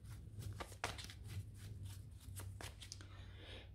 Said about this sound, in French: Je vais remettre des cartes